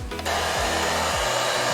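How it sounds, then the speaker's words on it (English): A hair dryer blows steadily with a loud, even rushing whir, preceded by a brief rustle at the start. "you can hear it's also a hairdryer"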